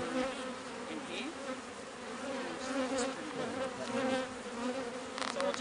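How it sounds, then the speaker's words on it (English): Honey bees buzz steadily around a hive frame lifted from the box during an outdoor beekeeping field day, a dense continuous drone with individual insects flitting close by. "So I'll just knock these bees off and bring it round to you, folks."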